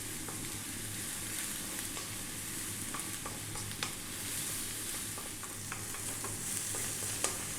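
Eggplant and tomato spaghetti sauce frying in a pan gives off a steady, close sizzle, with scattered utensil clicks and scrapes from frequent stirring.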